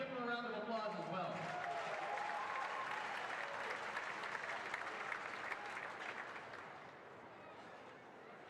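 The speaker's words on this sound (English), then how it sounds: "Give him a round of applause as well." Sustained audience applause for an emergency backup goalie at a hockey showcase event, steady dense clapping that follows a brief voice at the start and fades slightly toward the end.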